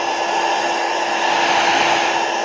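A hair dryer blows steadily on slime goop, a loud continuous whir and rushing airflow held at an even level throughout, close up with no voices.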